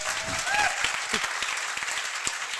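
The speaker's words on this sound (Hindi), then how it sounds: "एक बार जोरदार तालियां बजा दो फिर उठेंगे सर" Audience clapping at an indoor education seminar in Haryana, a brief, moderately loud patter of hands heard under scattered voices.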